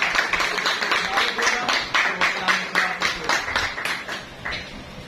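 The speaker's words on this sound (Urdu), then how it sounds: "آپ کی زوردار تالیوں میں" Applause from a church congregation welcoming a pastor, many hands clapping in a dense, steady patter that continues evenly, moderately loud with no speech over it.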